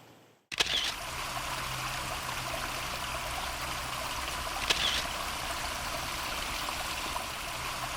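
Two sharp, distinct clicks of a single-lens reflex camera shutter, one early and one a few seconds later, over a steady rush of water flowing through a creek and spilling over a beaver dam.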